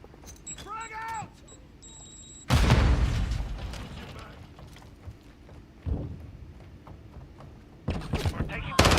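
A frag grenade exploding in Call of Duty Modern Warfare II: a loud, deep boom with a rumbling, debris-filled tail, preceded by faint game voices and beeps, with further thuds and gunfire afterward.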